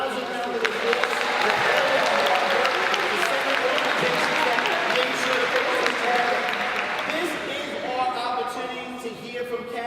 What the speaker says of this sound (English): let's give them all a rousing round of applause